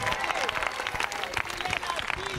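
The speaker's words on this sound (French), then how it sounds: "Acclame puissamment ses proclamations prophétiques." A Christmas Eve church congregation claps and cheers in continuous irregular bursts, with voices calling out over the applause throughout.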